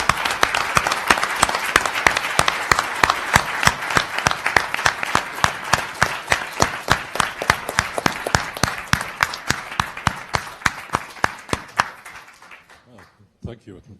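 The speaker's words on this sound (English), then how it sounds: "we should give Einar a big applause" Audience applause at a conference on open dialogue with families, honoring the organizer: a thinning round of separate, distinct claps that keeps a steady rhythm, then trails off and stops near the end.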